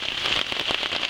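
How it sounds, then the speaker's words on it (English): Heavy rain lashing onto a tarp shelter over a camp bed, a dense, even hiss of drops with sharp crackling patter, loud and continuous with no voices. "as you can hear, proper raining."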